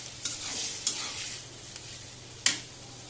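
Half a kilo of liver with garlic and ginger sizzles in a pan, a soft steady frying hiss punctuated by a few sharp spoon scrapes and clicks.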